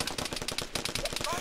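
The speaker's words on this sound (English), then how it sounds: "Enemy fire!" Rapid automatic gunfire from enemies in the Arma 3 military shooter game, loud bursts of close shots in quick rhythmic succession.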